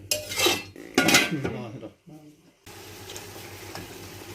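Two metallic clanks ring out as a lid is set down over a pot of tomatoes. A brief hollow rattle follows, then a quieter steady simmering hiss.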